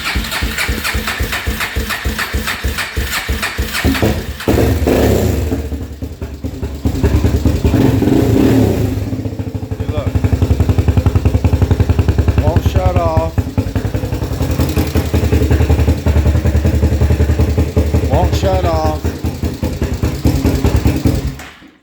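Kawasaki KFX400 ATV engine running steadily with a throaty, uneven idle and occasional revs, loud and close, with people talking over it in places.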